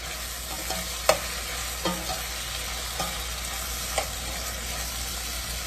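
Steady sizzling of habanero pepper frying in a pan, with a few light stirring taps and scrapes at intervals, no talking.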